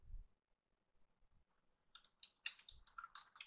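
Keys on a computer keyboard are typed at close range as a terminal command is entered, giving a quick burst of crisp clicks after a near-silent pause.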